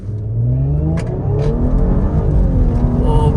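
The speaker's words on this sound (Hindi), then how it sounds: "मैं इसको एक बार फिर से आपको लॉन्च करके दिखाऊंगा।" An Audi S5 Sportback engine roars as it launches from a soft limiter in dynamic mode, its pitch climbing steadily through hard acceleration, loud and close.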